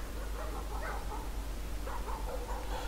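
A dog in the horror game Layers of Fear gives a few muffled barks and whimpers, set against a low, steady ambient hum.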